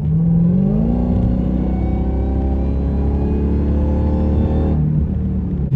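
A 2023 Dodge Demon 170 accelerating, its engine a loud, steady roar with a tone climbing gradually over several seconds before easing off near the end.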